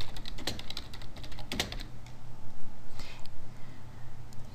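Keys tapped on a computer keyboard while entering a field name in an address book program, a few short close clicks bunched near the start and again later over a quiet, hissy room background.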